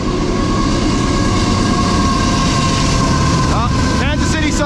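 A Kansas City Southern intermodal freight train rolls past close by, loud continuous rumble and wheel noise with squealing flange tones near the end, while a person talks over it.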